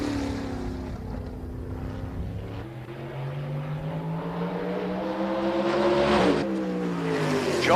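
A supermodified race car laps Oswego Speedway during time trials, its engine note sweeping up and down through the gears, then swelling louder and rising sharply as it passes close near the end.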